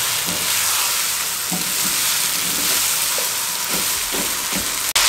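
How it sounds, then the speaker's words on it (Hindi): Rice fries with carrots and capsicum in a pan, a steady loud sizzle and hiss throughout, broken by soft scraping stir strokes and a sharp clink near the end. "1 मिनट तक इसमें अच्छे तरीके से चावलों के बीच में भून लें या इस तरह फ्राई कर लें"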